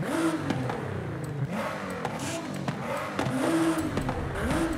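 Nissan GT-R with a modified exhaust revving in the Forza Horizon 5 video game: repeated rising and falling engine sweeps, loud and close, with a few short surges, and no talking.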